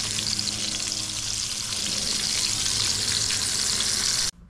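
Eggplant and galunggong fish frying in a small amount of oil, a loud, close, continuous crackling sizzle that cuts off abruptly at the end.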